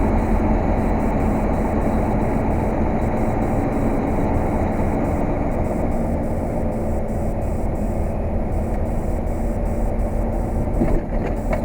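A tractor trailer's diesel engine runs steadily at low revs while maneuvering into a tight dock area in New York, a loud, continuous rumble heard alone.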